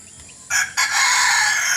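A rooster crows loudly and close by in a backyard at dawn, a short bright call followed by a long sustained crow.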